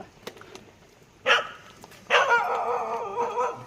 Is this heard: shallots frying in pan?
no